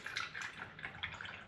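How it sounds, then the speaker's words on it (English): Cider pours through a funnel into a glass demijohn, a faint, close trickle and gurgle with small irregular splashes over a brief moment, no voices. "So I get my trusted funnel in and I'm going to pour this back"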